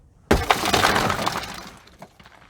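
A rescue knife's tip smashes a car side window in one sharp crack, followed by a spray of shattering glass and scattered tinkling fragments that trail off.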